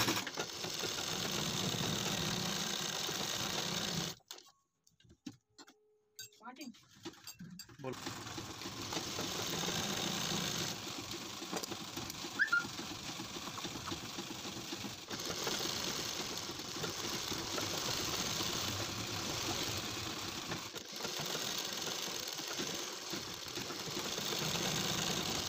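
A sewing machine stitches a neckline and half collar onto kurti fabric, a steady close mechanical whir that stops for a few seconds near the start and then runs on continuously.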